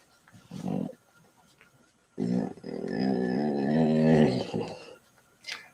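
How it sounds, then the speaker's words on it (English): A dog growls up close while having its ears scratched, a short low rumble followed by a longer, louder, wavering growl, then a faint trailing sound. "That was my dog."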